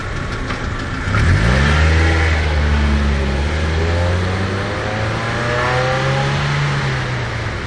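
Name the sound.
car engine revving and lunging forward after popping the clutch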